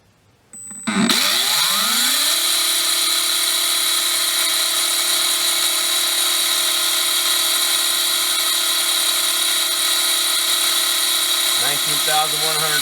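A Team Exalt Phoenix 17.5T brushless RC motor spins up sharply on a test bench and holds a steady high-pitched electric whine for about ten seconds before winding down near the end.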